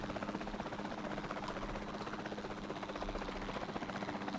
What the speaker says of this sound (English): Oh yeah, that quieted the helicopter down without changing the main volume.